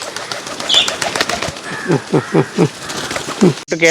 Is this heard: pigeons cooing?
yes